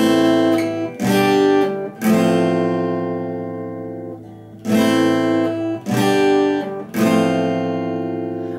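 Acoustic guitar strums the verse of a song in three chords, each struck downward and left to ring for several seconds between strums, played alone and close without any voice.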